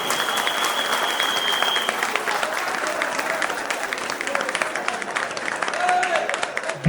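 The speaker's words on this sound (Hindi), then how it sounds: "तो एक बार विनोद वाडले के लिए जोरदार तालियां हो जाए।" Sustained applause from an audience at a police line reunion gathering, steady dense clapping throughout, fairly loud and close with no break.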